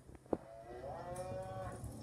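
A cow moos during calving, one drawn-out, faint low call rising and falling after a brief thump, with no voices.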